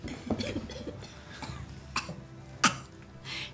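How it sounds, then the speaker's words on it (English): A person coughs repeatedly in short, scattered bursts, some faint and one sharper, in a quiet room. "She's just coughing a lot."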